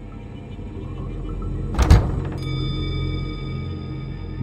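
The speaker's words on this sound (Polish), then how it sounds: "Drzwi otworzyły się gwałtownie" A wardrobe door in a bedroom bursts open with a single sudden, loud thud-like crash over a low, steady background rumble, used as a horror-story sound effect.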